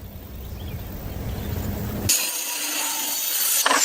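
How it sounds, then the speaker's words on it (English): A saw cuts solid wooden beams for the upper-floor framework of a log cabin in the forest. Steady rhythmic rasping is followed by a brighter, harsher cutting burst. The sound is close and unaccompanied by voices. "Solid wooden beams are being precisely cut and installed as the foundation for the upper floor."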